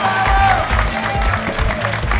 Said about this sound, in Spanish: ¡Vamos, el público! ¡El aplauso!